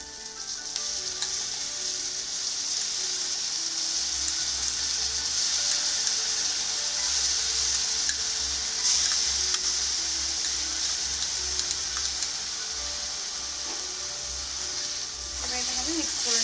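Ginger-garlic paste fries in a hot pan with a steady loud sizzle, while a spatula stirs it now and then with soft scraping.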